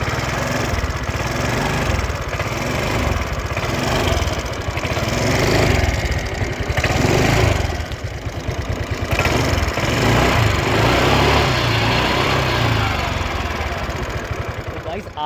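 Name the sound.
125cc scooter engine running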